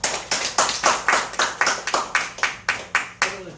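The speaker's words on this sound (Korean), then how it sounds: "우리 박수로 환영하도록 하겠습니다." A church congregation claps in welcome, a steady, rhythmic series of about a dozen sharp, unison claps at an even pace, close and clear.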